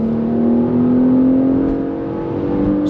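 Porsche Macan S with a turbocharged 3-litre six-cylinder pulling hard under acceleration, a loud steady engine note rising smoothly in pitch over a few seconds with no talking.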